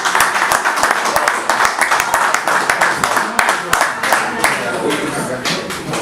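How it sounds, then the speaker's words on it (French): Applause from a festival audience in London, brisk clapping under voices that keep talking over it throughout. "Même ceux qui n'ont rien compris ont applaudi"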